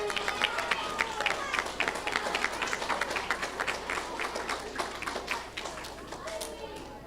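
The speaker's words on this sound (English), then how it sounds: "let's give them one last round of applause" A crowd at a fourth grade school awards ceremony claps steadily for the award winners, a sustained patter of many hands with a faint voice beneath.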